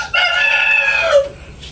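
A Japanese Shamo stag rooster gives one loud, close crow lasting just over a second, with a clear harmonic tone that drops at the end.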